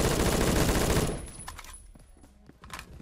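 Rapid automatic gunfire in the online shooter Phantom Forces during a Team Deathmatch round, a loud dense burst for about a second that drops off into scattered faint shots and echoes.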